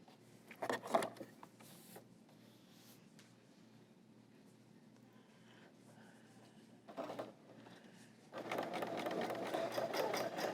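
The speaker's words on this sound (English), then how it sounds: "let's start sewing and see what happens" A QITV L890 cover stitch machine runs in short bursts near 1 second and 7 seconds, then settles into a sustained, louder stitching whirr from about 8.5 seconds, with quiet pauses between.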